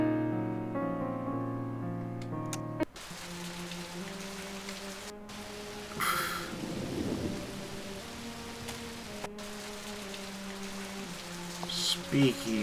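Heavy rain downpour in the game And Then There Were None, a steady dense hiss with soft rumbling thunder, playing under a sustained low musical drone with a few sharp clicks.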